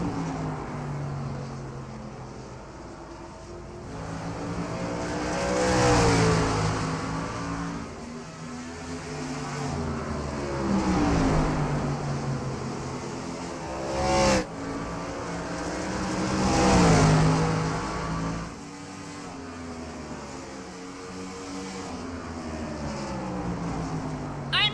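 Stock race cars at Richmond Raceway roar past in a pack, engines rising and falling as they approach and recede twice, with a steady hum of other cars in between.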